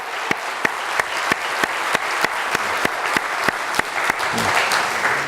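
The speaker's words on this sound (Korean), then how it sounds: "뜨거운 박수 부탁드립니다" Loud, sustained applause from a church congregation honoring Sunday school teachers, with sharp accented claps recurring at a steady beat throughout.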